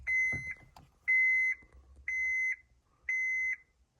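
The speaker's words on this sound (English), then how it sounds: "Wait for the beeps to stop." Four evenly spaced electronic beeps, each about half a second long, high-pitched and clear, with short silent gaps between them, from a Honda car's blower motor system before it starts blowing.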